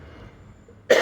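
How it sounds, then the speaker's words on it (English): A single sharp human cough bursts out near the end after near silence, loud and close, from a man with a nasty cough. "Sorry about that. I've got a nasty cough."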